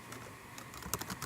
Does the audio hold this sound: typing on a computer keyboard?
yes